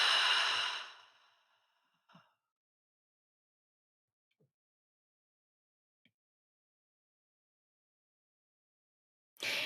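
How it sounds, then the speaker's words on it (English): A deep, breathy exhale like a long sigh opens the sequence during a guided meditation breathing exercise. Near silence follows with a few faint clicks, then another short breath returns at the end. "And you're going to breathe all the way in. And we're going to breathe all the way out."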